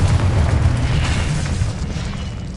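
Confringo fire spell blasts in the video game Hogwarts Legacy, a dense, continuous rumbling explosion with heavy low boom lasting throughout, loud and sustained without speech.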